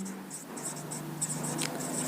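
Chalk or marker squeaks and taps across a classroom board as physics notes are written, making short repeated scratchy strokes over a faint background hum.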